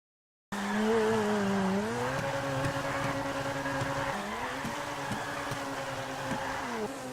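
A Grotti Turismo R sports car in GTA 5 drives with a loud, steady engine drone that rises and falls as it shifts gears, with faint tire noise throughout and no voices.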